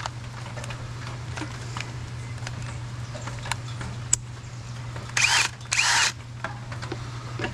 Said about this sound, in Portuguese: Primeiro eu vou fazer os furos.